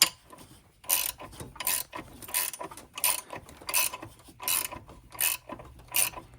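A puller slowly presses the power steering pump pulley onto a 1996 Chevy K1500, giving a series of regular ratcheting clicks and mechanical creaks, about eight evenly spaced bursts, close and alone without speech.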